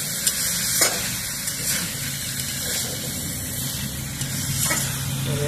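Prawns frying in a pan with potol, a continuous close sizzle broken by a few scraping stirs of a spatula, no talking.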